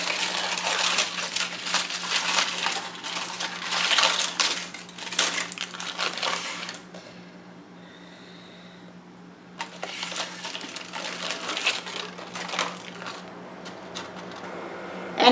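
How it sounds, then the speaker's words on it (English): Aluminum foil is peeled back off a watermelon bombe, giving close, loud crinkling and rustling in bursts, with a quieter pause in the middle before more crackling resumes. "And then I just need to peel my aluminum foil back."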